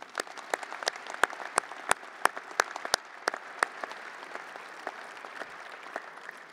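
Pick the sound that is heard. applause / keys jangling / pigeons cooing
applause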